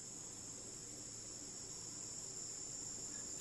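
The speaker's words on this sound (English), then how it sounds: "Cicada." A toy cicada makes a constant buzzing insect drone, soft and unbroken for a few seconds with nothing else heard.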